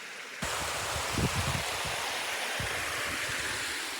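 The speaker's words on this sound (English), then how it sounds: "I think we're finding our waterfall." A waterfall and creek in a Southern Washington forest rush continuously with a broad, steady roar that begins abruptly and stays close and loud, with occasional low thumps of footsteps or handling.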